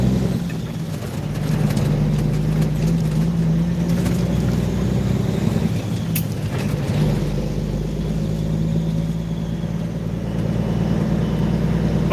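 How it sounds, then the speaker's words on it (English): A heavy truck's engine rumbles low and steady from inside the cab as the Jake brake engages, a deep continuous growl with a brief sharp transient midway. "the bigger the engine, the harder the sound of the Jake brake"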